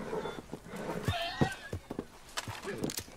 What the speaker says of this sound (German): Können wir das Pferd mal ein bisschen beruhigen?